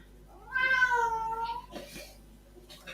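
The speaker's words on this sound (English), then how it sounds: "Cat wants to go out again." A house cat lets out a drawn-out, insistent meow, wanting to be let outside, followed by a short second call and faint trailing sounds, fairly close in a quiet room.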